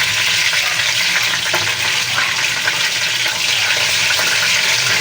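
Tofu fries in hot oil in a pan with a loud, continuous, dense sizzle and crackle, heard close up without a break.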